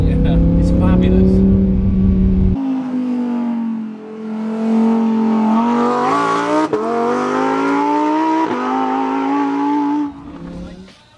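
A Lamborghini Huracán Performante engine howls and climbs through the revs, with sharp downshift blips breaking up the rising tone; loud and close throughout.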